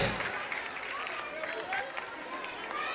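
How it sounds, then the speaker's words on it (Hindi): Audience applause at a school annual function, a continuous crowd of hands clapping with a murmur of voices underneath, steady and moderately distant throughout. "इनकी हिम्मत अफजाई के लिए बार बार तालियां बजाते रहिए।"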